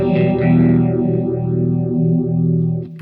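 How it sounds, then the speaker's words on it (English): Electric guitar run through a JHS 3 Series phaser pedal, with a warm, analog-style phaser. Sustained chords sweep up and down in a slow, repeating swirl. The guitar plays loud and close with no one talking. "Nice, warm sounding analog-esque phaser."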